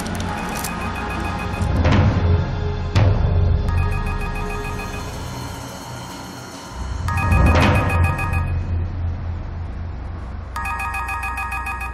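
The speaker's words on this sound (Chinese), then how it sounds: "阿嘉芬的电话你无要接" A telephone rings repeatedly in a TV drama scene, with several bursts of ringing separated by short pauses, loud and close, and no one speaking.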